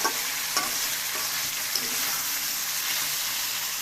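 Pieces of broiler chicken skin fry steadily in oil, a continuous dense sizzle with a few sharp pops and occasional stirring scrapes, close and fairly loud with no talking.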